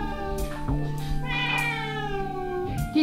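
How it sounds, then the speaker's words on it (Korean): Pet cats meow near the camera, several drawn-out, rising and falling cries following one another in quick succession with no talking. "우리 식탐 고양이들"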